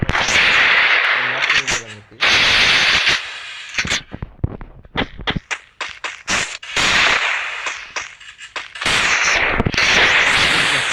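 Video game gunfire in loud, harsh bursts: long rattling volleys alternate with clusters of sharp single cracks and short gaps, all close and dominant.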